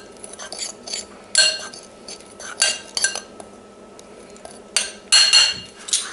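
Measured ingredients for chicken cooked in yogurt given a quick mix in a bowl, with a utensil clinking and scraping against the dish in uneven bursts, close and fairly loud, with no talking.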